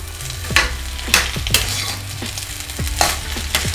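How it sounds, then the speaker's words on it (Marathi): Egg rice with coriander being stirred in a hot pan, a spoon scraping and tossing in repeated strokes over a constant close sizzle, with occasional metallic clinks. "आता वरून आपण कोथिंबीर घालूया त्यानंतर मिक्स करून घ्यायचं"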